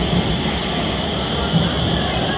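Agra metro train rumbling steadily with a low continuous drone and broadband noise, heard from inside or beside the carriage without any obvious breaks.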